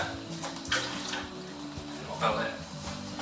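Water is poured out of a glass during drink preparation, giving two short splashing bursts over a low steady background, with a person talking nearby.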